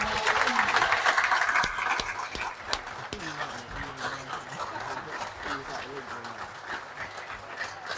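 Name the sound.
round of applause for the players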